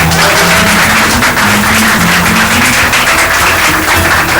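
Stand-up comedy audience clapping, a dense, loud, continuous wash of applause filling the room with no voices over it.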